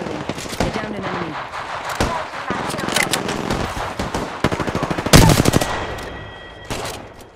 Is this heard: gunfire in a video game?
yes